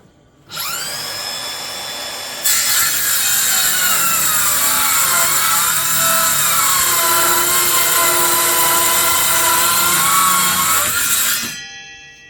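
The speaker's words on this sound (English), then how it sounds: "The circular saw I'm using here really, and it doesn't seem powerful enough for cutting through this" Battery circular saw cutting wooden shelving panels, a loud steady whining motor tone that jumps up in pitch as the blade bites, holding strong through a long continuous cut before spinning down.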